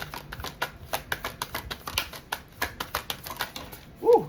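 Tarot cards being shuffled by hand in quick, uneven riffling bursts, crisp and close, with a short vocal sound at the end.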